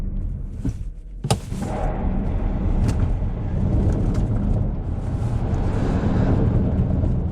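A 2022 Ford Mustang Mach-E GT Performance Pack electric car drives over bumps, giving a loud, steady road and wind rumble with a few sharp thumps near the start.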